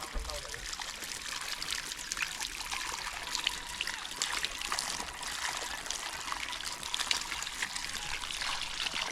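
Water sprayed in a steady hiss that runs throughout at moderate level, with a voice heard faintly beneath it.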